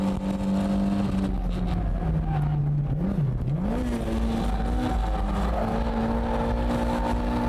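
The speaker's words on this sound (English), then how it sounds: "I'm literally flooring it the entire way." A car engine held at full throttle during a drift on M7 tires roars loud and close without a break, its pitch sagging and wavering briefly midway before climbing steady again.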